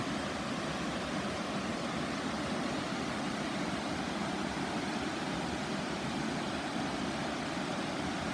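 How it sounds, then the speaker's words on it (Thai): A constant broadband rush of water from a waterfall, steady and enveloping, with no voices. "ได้ยินแต่เสียงน้ำตก"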